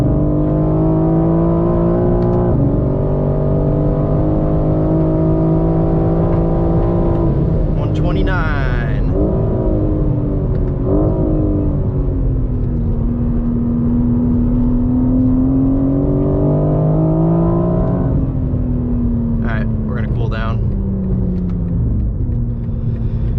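A 2023 BMW M4 CSL driven hard on a race track, its engine a loud, steady in-cabin drone whose pitch climbs and drops repeatedly through gear changes across the lap.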